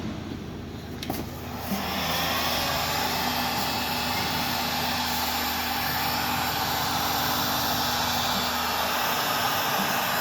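A heat gun blows steadily and loudly on the seized bolt of a Zanussi 7 kg washing machine drum spider, a continuous broadband roar that starts softer and swells after about two seconds and then holds for the rest of the clip.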